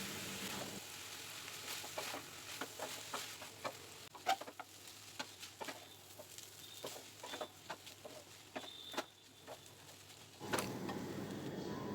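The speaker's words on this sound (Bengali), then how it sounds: "ভেজে রাখা চিকেনের টুকরো আর ডিমের ঝুরি এর মধ্যে দিয়ে দিলাম। এরপর নাড়াচাড়া করে এটা মিশিয়ে নেব।" Fried chicken pieces and scrambled egg being tossed through chowmein in a pan, a series of sharp irregular scraping and clattering strokes over a low continuous sizzle, close and fairly loud.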